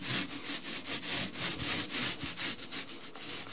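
A paint roller spreads Crystal Edge screen paint over unsanded drywall, rolling in a steady rhythm of repeated close scraping strokes with no talking.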